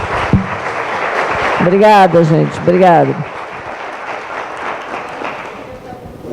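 Steady audience clapping fills a hall at the Maxicon Líderes Empreendedores event in Iguassu Valley, running the whole time while someone speaks briefly over it.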